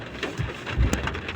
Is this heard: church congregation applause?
no